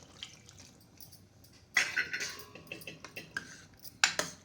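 Water is poured into a cooking pot of sambar holding green chillies, tomato pieces and turmeric, making a brief splashing rush amid clinks and taps of metal utensils in a home kitchen.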